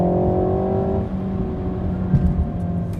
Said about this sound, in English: it actually alters the exhaust note so it sounds a bit louder